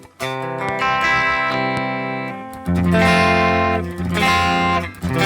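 Sustained electric guitar chords and ringing notes from a Harley Benton Fusion 3 through the Neural DSP Gojira X plugin, mostly clean with a slight gritty edge, played fairly loud with short pauses between phrases.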